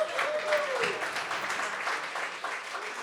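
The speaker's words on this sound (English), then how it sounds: "How about another round of applause?" Audience at a pub talk held at a brewery breaks into steady, dense applause that carries through the whole moment, with a brief whistle early on and some voices mixed in.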